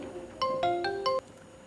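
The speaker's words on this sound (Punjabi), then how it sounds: "ਫੋਨ ਆ ਰਿਹਾ ਨਵੇਂ ਨੰਬਰ" An incoming call on a phone plays a bright electronic ringtone, four quick melodic tones in a short run, close and clear against a quiet room.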